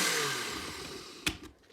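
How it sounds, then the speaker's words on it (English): A blender whirs through small cauliflower florets and its motor winds down, followed by a single sharp clunk and a few quieter knocks, all fairly faint and close. "it's taking seconds just to blend because I broke down it into small florets, and I'm using less in the blender"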